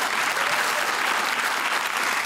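Dense, even applause from a studio audience thanks the panel on a televised Q+A discussion show, sustained clapping without pause.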